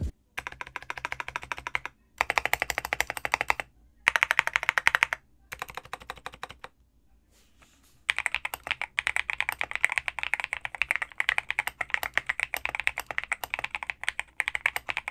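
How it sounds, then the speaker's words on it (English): Bursts of fast typing on a stock Zuoya GMK67-S mechanical keyboard, close and crisp, with dense clacking keystrokes separated by short pauses and a longer silent gap before a final sustained run. "here's what the keyboard sounds like stock"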